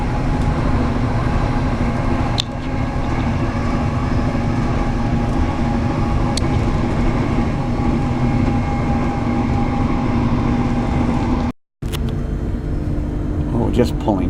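Queensland Tilt Train (Tiltlander) rolling along track out of Nambour, a steady loud rumble of wheels and carriage noise with a brief jolt and a short dropout near the end.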